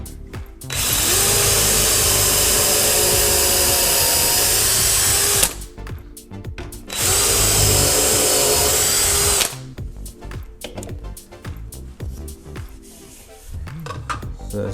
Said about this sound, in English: So now it's time to drill.